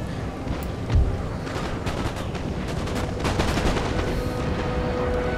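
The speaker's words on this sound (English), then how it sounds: "as all of their guns are kind of firing" Enemy guns firing in a Napoleon: Total War battle on the Russian campaign: a steady crackle of overlapping volleys with a dull thump early on, sustained and fairly distant, with no talk.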